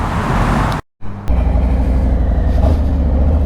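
A 2020 Harley-Davidson Low Rider S motorcycle riding in Florida, with a loud, steady low engine rumble and wind roar that cuts out briefly near the start and then carries on continuously.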